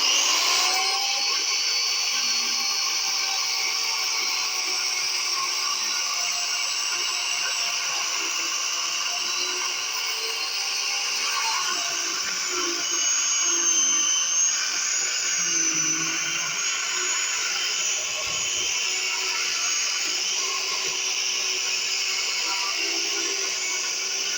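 An ordinary electric chainsaw chain cuts through a block made of sawdust, giving a steady, high-pitched mechanical whine with rattling chain noise that runs unbroken and close for the whole stretch.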